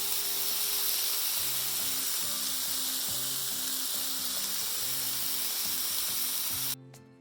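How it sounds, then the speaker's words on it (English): Peppers and onions steam and sizzle on a Blackstone flat-top griddle after water is poured on, a steady close hiss running throughout and cutting off abruptly at the end. "I just put the water directly on the peppers and onions to kind of steam them up a little bit."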